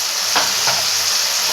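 A spice masala with tomato and chili powder sautés in a pan, a steady broadband sizzle with two brief stirring scrapes near the start, close and fairly loud, no voices.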